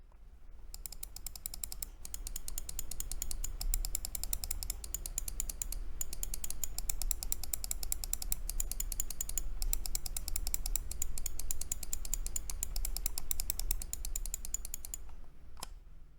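Logitech G305 gaming mouse buttons clicked over and over in a close, steady stream of crisp, rapid clicks with brief pauses, no voices.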